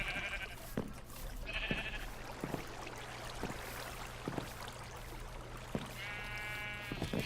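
Sheep bleating in the game Minecraft, with several short nasal bleats spread across the stretch over a steady ambient hum and scattered soft clicks, and no voices.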